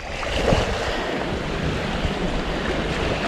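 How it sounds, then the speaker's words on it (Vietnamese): Wind blowing and waves lapping against the shore of a small river island, a steady broad rushing wash with gusty microphone buffeting, fairly loud and without talk. "gió thổi sóng vỗ vào dạt sóng vỗ dạt vào"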